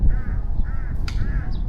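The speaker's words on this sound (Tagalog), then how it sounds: "ayun yung uwak" Crows in trees at a beach campsite give three harsh, evenly spaced caws, fairly close, over a low rumble of wind.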